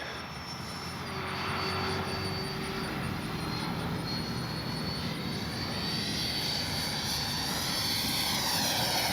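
A radio-controlled Freewing F-18 90mm electric ducted-fan jet roars steadily overhead, its high whine rising and shifting in pitch as it passes, loud and continuous.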